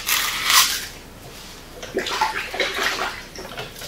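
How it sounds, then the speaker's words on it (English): Water sloshes and splashes in a bucket of soap-and-water solution used for soaking RacerTech bushings. A loud splash comes early, then softer, irregular sloshing continues nearby without talk. "I got a bucket of water here. It's a little soap and water solution."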